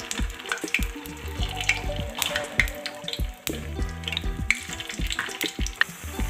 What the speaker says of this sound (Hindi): एक एक करके बोटी भी आपने आराम से डालनी है, क्योंकि ये छींटे उठे आपके ऊपर भी पड़ सकते हैं।